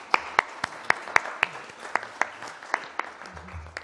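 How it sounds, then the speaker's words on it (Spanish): A small audience at a design school research talk claps in scattered, fairly sparse applause, with individual sharp claps standing out at an uneven rhythm. "vamos a darles un aplauso para que empiecen un poco calientes"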